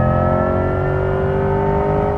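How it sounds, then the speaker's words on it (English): A 2024 Corvette E-Ray hybrid with all-wheel drive drives past, its V8 rumbling loud and steady beneath a high, tonal electric-motor whir that holds throughout, with no talking. "it's like this kind of high-pitched whirring sound that you get from electric motors, but you still get to hear a V8"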